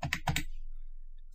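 A handful of quick keystrokes on a computer keyboard while entering field names into Microsoft Access tables, a brief close clatter of four or five taps then quiet.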